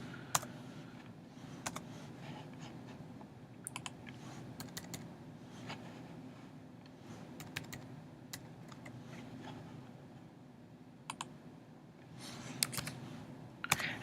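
Quiet, scattered keystrokes on a computer keyboard while entering a value into CAD drawing software, with irregular clicks over a steady low background hum.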